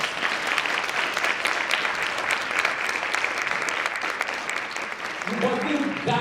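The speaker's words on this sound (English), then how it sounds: "Give yourselves a round of applause" A women's empowerment summit audience breaks into sustained applause, dense clapping at a steady level throughout, with a voice rising over it near the end.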